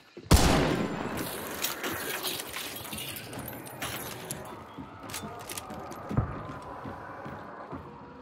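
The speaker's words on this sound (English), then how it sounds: "I'm gonna take a shot." Gunfire in Hunt: Showdown, a sharp, loud shot right at the start followed by a long rumbling echo, with a second fainter crack near the six-second mark.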